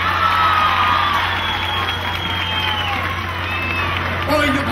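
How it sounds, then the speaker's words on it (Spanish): A large crowd at a Mother's Day event applauds and cheers, steady clapping mixed with shouts and whoops throughout, loud and continuous, with voices calling out above it. "un aplauso para ustedes"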